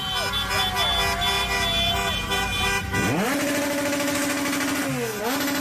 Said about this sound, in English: Everybody's honking outside the hotel.